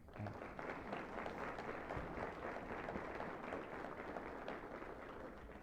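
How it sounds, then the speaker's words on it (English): An audience at a city State of the City address applauds steadily, dense clapping held at an even level throughout, fairly distant and without speech over it. "please give an applause to my wonderful"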